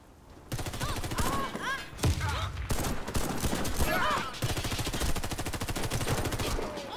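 Rapid gunfire bursts in a competitive first-person shooter match, loud and near, crackling continuously with overlapping shots and background game effects while players call out over it.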